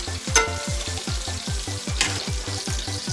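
Meatball sauce stirred in a sizzling pan, a steady frying hiss under a regular scraping rhythm of the spoon, close and fairly loud with no talk.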